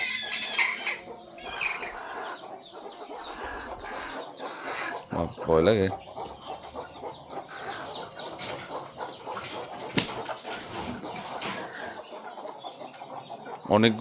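Many caged chickens at a village home cluck and murmur steadily throughout, with occasional louder squawks and a brief flutter, while a person talks over them.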